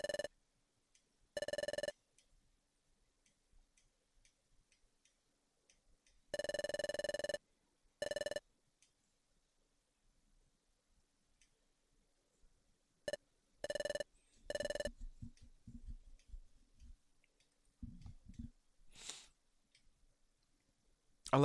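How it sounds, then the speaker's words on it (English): A phone notification chimes in short repeated bursts, with several separated tonal beeps spaced across a long quiet stretch, followed by faint clicks and low rustling, soft and close. "You just now got a notification."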